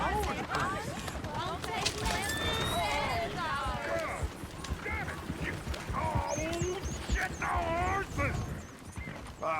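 Horse hooves clip-clop from a horse-drawn coach in the Red Dead Redemption 2 video game, a steady trotting patter mixed with whinnies and a barking dog beneath voices talking throughout.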